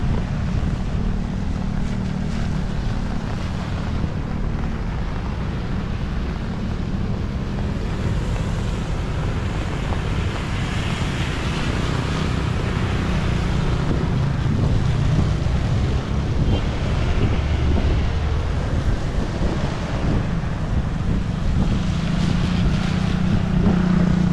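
Strong wind buffets the microphone with a constant heavy rumble, gusting louder midway, over faint rushing water.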